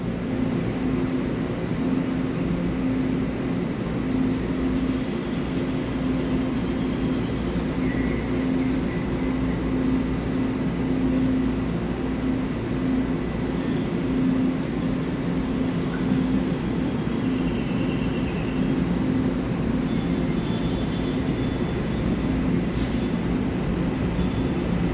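An EMU900 ten-car commuter train rolls through a Taiwanese railway station, a steady low rumble and hum of wheels and motors held at even loudness throughout.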